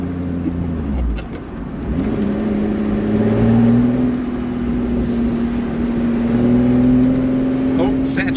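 A supercharged 3.5-litre V6 Lotus Exige making 380 horsepower revs close by, its engine note climbing and holding a steady drone, with some talk over it.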